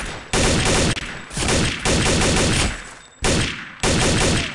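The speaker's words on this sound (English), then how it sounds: "That guy carries a shotgun which is completely deadly." Shotgun fire in Counter-Strike Condition Zero: Deleted Scenes, a series of loud, close blasts in uneven bursts, each sharp report followed by a short decaying tail, with no talk.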